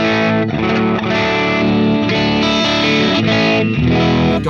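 A distorted electric guitar played through a Marshall amplifier rings out loud and continuous, sustained chords and riffs with a saturated, gritty tone and no talking.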